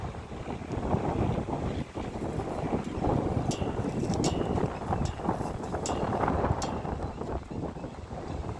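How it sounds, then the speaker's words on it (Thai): Strong gusting wind buffets the microphone outdoors at a roadside stall selling bamboo-tube sticky rice, a loud continuous roar with rumbling surges and brief crackles throughout. "ลมแรงจริงๆเลยลมแรงมาก"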